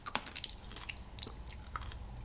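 Someone chews crunchy Japanese candy close up, with sharp irregular crunches and bites over a quiet room, no talking.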